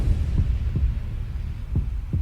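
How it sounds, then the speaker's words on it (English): A slow, steady heartbeat, used as a sound effect for an astronaut drifting in space, thumps low and muffled about four times over a continuous deep hum. "We've added in the heartbeat of the astronaut"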